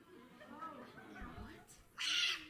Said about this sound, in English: Dad, this box is meowing